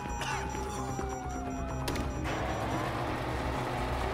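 Metal shutter mechanism grinding and ratcheting open during a heist in GTA V, a steady mechanical rattle with creaks and a sharp clank midway, alone with no talk.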